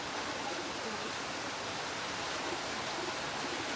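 A river in Bulacan, swollen by water released from a dam, rushes with a continuous broadband roar, steady and fairly loud with no pauses.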